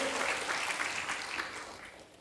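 A church congregation claps during a worship service, giving a dense, steady round of applause that fills the space and tapers slightly toward the end.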